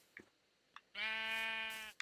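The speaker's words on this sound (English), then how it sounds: "Oh, is that another white sheep?" A single synthetic sheep bleat from Minecraft, one sustained wavering baa lasting about a second, clear and close, framed by brief clicks of game sounds before and after.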